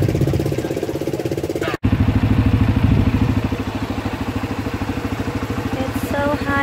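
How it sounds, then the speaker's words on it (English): A large ATV's engine runs close and loud, with a fast, steady mechanical chugging throughout that breaks off for an instant partway through, then resumes. "This large ATV."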